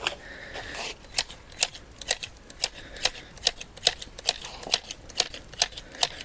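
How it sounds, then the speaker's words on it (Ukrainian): Old, dull telescopic garden shears snipping ornamental grasses and plants, a steady series of sharp close clicks and snips at a quick, even rhythm. "у нас видвижні ножиці це нам допомагає телескопічні ножиці"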